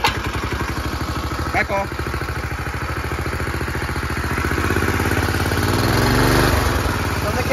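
Small engine on a homemade shopping cart go-kart starting up and revving, its steady chugging growing louder and rougher over several seconds, with people talking nearby.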